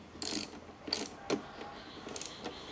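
Socket wrench ratchet clicking while tightening a 14 mm bolt on a Yamaha NMAX Neo scooter during a windshield fit, in several short bursts of close, crisp ratcheting with pauses between.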